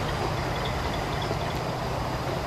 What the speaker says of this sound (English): By the way, I really like the noise of this train.